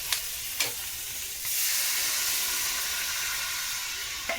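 Water poured into a pan of frying fish and green chillies, a few stirring clicks followed by a sudden swell into a broad, loud hissing sizzle that holds steady, with no talking.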